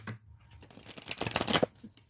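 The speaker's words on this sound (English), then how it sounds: "Let me shuffle them this way because they're starting to get hunched over." Tarot cards being shuffled by hand produce a soft, close riffling patter that builds into a brisk flurry of papery flicks and then settles, quiet and alone.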